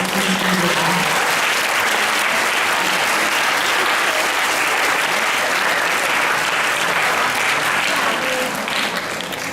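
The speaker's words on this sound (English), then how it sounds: "we would like to applaud Miss Shelley and Miss Claudia for all the tremendous" Sustained, loud applause from a school band and choir concert audience, dense and continuous for several seconds with a few faint voices mixed in.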